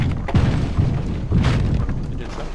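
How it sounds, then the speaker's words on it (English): A breach charge goes off in Rainbow Six Siege, with a loud close boom followed by a second heavy thump and rumbling debris. "detonate it immediately"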